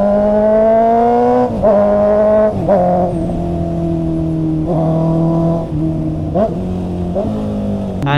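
Honda CB650R motorcycle ridden on a mountain road from Baguio to Bontoc, its inline-four engine close and loud, droning steadily and rising through repeated revs and gear changes.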